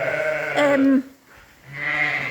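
Sheep bleating in a farm mixer pen shared with alpacas at Bellevue Farm on Arran: two loud, close, wavering bleats separated by a short pause.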